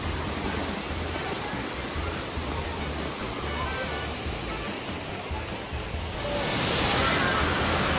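Tamasopo waterfalls in Mexico, a continuous heavy roar of falling water with a steady broadband rush that swells louder near the end, no voices heard.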